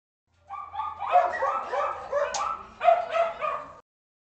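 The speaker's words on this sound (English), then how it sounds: "It's next door's yapping dogs." Small neighbouring dogs yap and bark repeatedly next door, a run of sharp high yips and whimpers lasting a few seconds, heard alone at moderate distance indoors.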